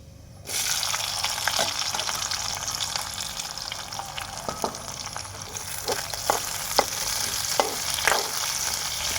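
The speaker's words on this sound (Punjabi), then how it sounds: "ਥੋੜਾ ਜਿਹਾ ਗੰਡਾ ਭੁੱਜ ਗਿਆ" Chopped onions hit hot oil in a pan and sizzle loudly and continuously for Punjabi rice, with occasional soft stirring scrapes.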